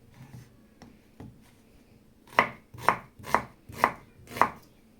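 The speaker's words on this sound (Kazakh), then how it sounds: "Пиязымызды майда етіп турап аламыз" A knife chops onion on a board in a few soft taps, then five sharp, evenly spaced chops in a steady rhythm, close and crisp.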